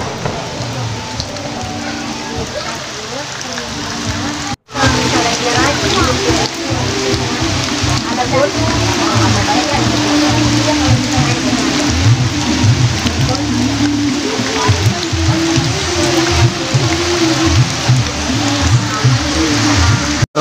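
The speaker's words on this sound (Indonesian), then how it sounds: "Mudah-mudahan hujannya cepat berhenti." Heavy rain pours down at a small lake during a fishing outing, a loud, dense, continuous hiss and patter close by, with a person talking throughout over it and a brief cut near the start.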